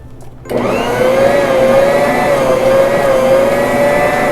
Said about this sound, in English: I let the Bosch Universal knead the dough for 5 minutes